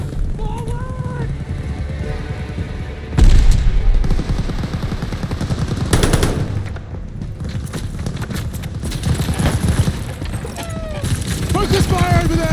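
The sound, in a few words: light machine gun fire in a video game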